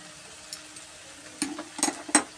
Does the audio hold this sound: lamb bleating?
no